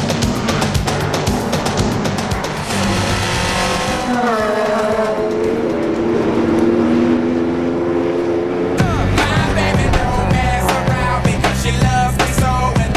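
Fiat Uno and Punto race cars, including Punto racers with 1800cc engines on slick tyres, scream past at Mondello Park. Loud engines rise and fall through gear changes, with one car sweeping by as several roar close together.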